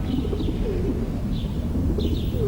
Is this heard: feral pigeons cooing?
yes